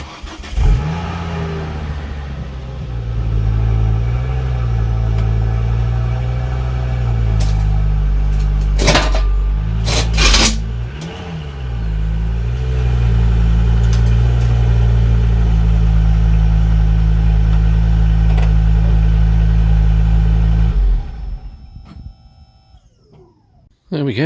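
A Ford Focus ST engine idles and revs in short bursts as the car creeps up onto ramps, a steady loud hum with sharp clunks midway, then the engine cuts out near the end.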